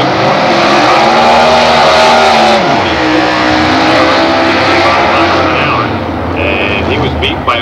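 Competition eliminator drag racing cars roar down the strip, a loud engine scream rising and then falling away as the car passes, with an announcer talking over the noise.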